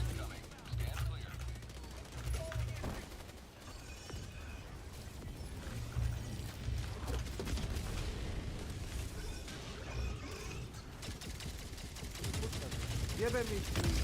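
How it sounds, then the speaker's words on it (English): An Orbital Gatling in a video game fires in a dense, sustained barrage of rapid booming shots and explosions. The roar runs continuously for the whole stretch, with people talking over it. "jesi vidio ovo kako puca ovaj Orbital Gatling?"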